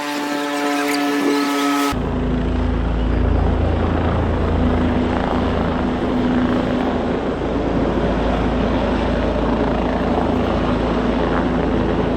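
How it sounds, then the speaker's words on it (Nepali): A helicopter roars loudly and steadily at Khaptad National Park, its rotor drone filling the whole stretch after a brief tonal sound at the start. "हेलिकप्टर हेर्नेको लाइन यहाँ।"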